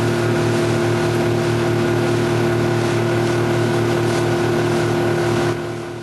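A motorboat motors along a river close to cliffs, its engine a loud, steady droning hum heard up close that runs unbroken for the whole stretch.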